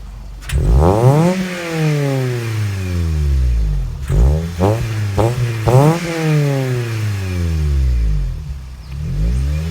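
A Scion xB exhaust revving outdoors, a long rev, then a burst of short sharp blips, then another long climb, loud and near.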